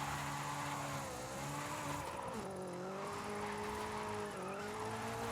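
A car drifting in the Forza Horizon 5 racing game, with a steady engine drone that rises and falls in pitch as it slides, continuous and fairly loud throughout.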